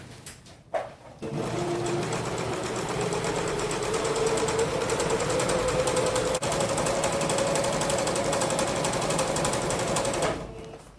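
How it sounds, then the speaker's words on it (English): A sewing machine runs steadily for about nine seconds, stitching the side seams of a homemade PPE gown, with a continuous close mechanical whir between brief pauses at the start and end. "Just start the sewing process"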